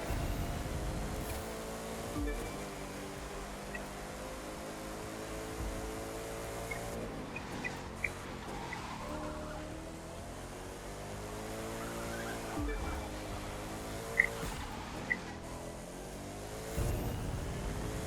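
A McLaren sports car in The Crew 2 video game takes corners at speed, its engine revving up and down continuously with tire squeals and brief skids, loud and close throughout.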